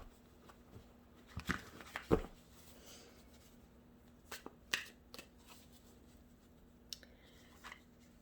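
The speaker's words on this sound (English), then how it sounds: "These pack of cards are always very stubborn when it comes to shuffling." Pack of tarot cards being shuffled with difficulty, faint scattered riffles, taps and flicks in uneven bursts, quiet and close with no voices.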